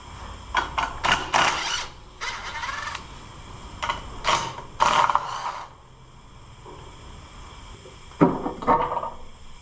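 Ratchet wrench loosening bolts on the valve cover of a 1970s Gardner Denver tow-behind air compressor, heard as several close bursts of quick clicking in uneven runs, with pauses and small metallic clanks between them.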